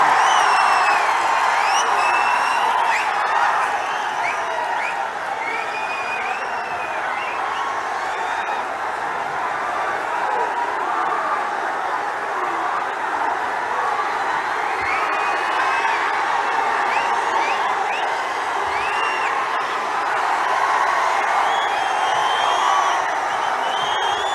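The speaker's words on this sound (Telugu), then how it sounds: "అందరు గట్టిగా చప్పట్లు కొట్టి స్వాగతం చెప్పవలసిందిగా విజ్ఞప్తి" A large outdoor crowd at a BRS political rally in Warangal cheers, whoops and claps continuously, a dense steady roar with scattered shouts and whistles rising above it, loud and sustained throughout.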